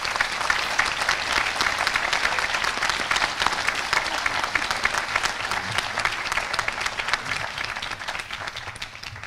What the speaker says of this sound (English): I now invite the assembly here gathered to show support of these student representatives with a round of applause